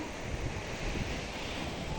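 Rough sea waves crash and wash continuously onto the shore nearby, with a steady broadband roar and gusty wind buffeting the microphone, no voices.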